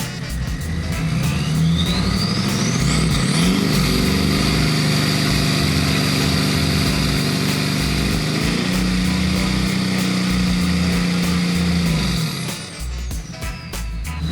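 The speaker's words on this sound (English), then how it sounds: "Rev it." An off-road vehicle engine revs loudly and close by in several long rising and falling pulls over a steady idle, with no one talking, before settling back near the end.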